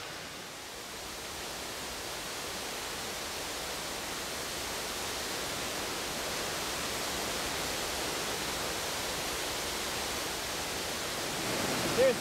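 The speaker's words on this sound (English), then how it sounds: "You guys hear a river?" Steady broadband rushing of flowing water, continuous and fairly loud, with no breaks or other sounds.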